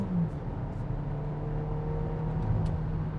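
2016 Hyundai Tucson accelerating in third gear with the dual-clutch in manual mode, a muffled engine hum rising gradually, heard from inside the cabin at low volume with no speech.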